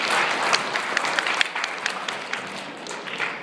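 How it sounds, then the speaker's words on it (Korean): An audience at a cloud computing conference plenary session claps in a brief burst of applause, a dense patter of many hands that swells and then thins out, fairly close. "박수 한번"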